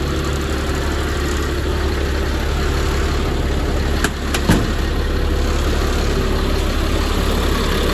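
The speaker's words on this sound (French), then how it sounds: "Le moteur tourne bien, aucune fuite." A truck's diesel engine idles steadily with a deep, constant rumble and hum, close and loud, with a brief clunk or click partway through.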